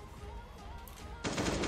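Gunfire in the video game Last Day On Earth, a burst of rapid shots that kicks in loudly near the end after a quieter stretch of game sounds.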